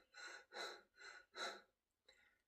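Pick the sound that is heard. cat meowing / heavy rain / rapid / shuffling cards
rapid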